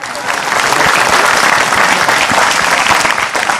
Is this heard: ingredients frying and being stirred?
no